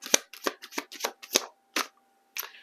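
Tarot cards shuffled and handled up close while drawing a card, a quick run of crisp papery riffles and flicks that slows into a few separate snaps with brief pauses between.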